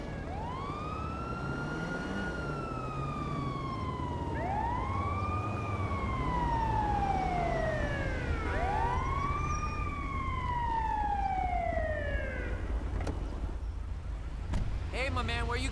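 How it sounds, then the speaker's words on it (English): An ambulance siren in Grand Theft Auto V wails in repeated rising-and-falling sweeps, fairly loud and close, over steady traffic and engine noise, fading out near the end. "That'd be the ambulance coming to sort that woman out that I just punched in the teeth."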